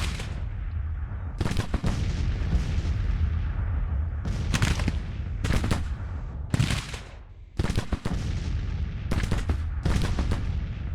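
Civil War artillery, including 3-inch ordnance rifles, fires in the strategy game Grand Tactician: Civil War. About eight sharp, booming reports land at irregular intervals over a low, steady battlefield rumble.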